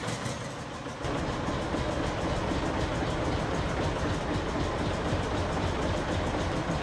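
A farm vehicle engine with electric start in the Farming Simulator video game kicks in after about a second and holds a steady, loud, continuous droning rumble, with no voices.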